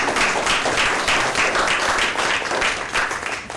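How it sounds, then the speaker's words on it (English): Members at an annual membership meeting and board election applaud the nominees, sustained loud clapping with a slightly pulsing rhythm that eases off toward the end. "Please give a round of applause."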